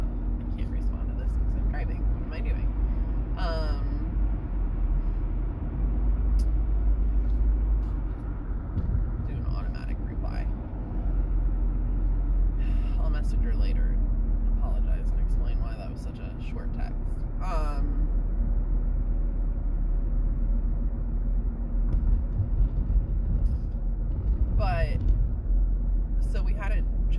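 Steady low road rumble from inside a moving car runs throughout, loud and continuous, with brief clicks and a person talking over it at intervals.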